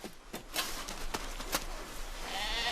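Sheep bleat a few times against a hissing, windy background in the snowy Swiss Alps near Zermatt, the cries fairly close and irregularly spaced.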